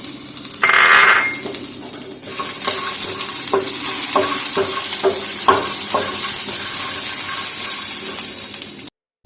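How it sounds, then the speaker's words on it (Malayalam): Peeled peanuts go into onions in a pan for a peanut chutney, sautéing with a steady close sizzle and a run of sharp spatula scrapes and clinks against the pan, with no voices. "നമുക്കിത് സവാളയിലേക്ക് ഇട്ട് കൊടുക്കാം അപ്പോൾ ഇതോട് ചേർത്തിട്ടൊന്ന് വഴറ്റി എടുക്കാവേ"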